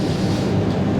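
Steady low rumble inside the front carriage of a moving passenger train travelling between Sittard and Roermond in the Netherlands, an even, continuous hum of wheels and motion with no talking.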